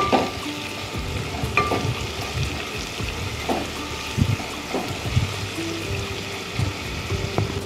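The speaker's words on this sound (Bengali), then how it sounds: "এলাচ এবং পেঁয়াজ কুচি দিয়ে ভালো করে আমরা এগুলিকে কুক করে নেব" Cardamom, bay leaf, cumin and chopped onion fry in a pan with a steady, close sizzle, broken by soft stirring scrapes and small clinks.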